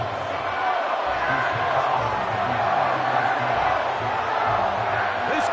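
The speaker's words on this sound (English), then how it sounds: "This crowd into it now as we get to 3rd down." A stadium crowd in the Madden 25 American football video game keeps up a steady, rumbling roar ahead of a third down, with a commentator's voice running over it.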